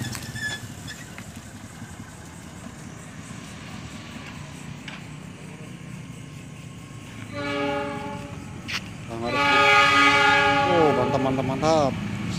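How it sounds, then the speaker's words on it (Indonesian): A departing coal freight train, with steady rail rumble in the background, then gives a loud two-part horn blast near the end, the second blast stronger and sustained. "jadi kereta api batubara berangkat"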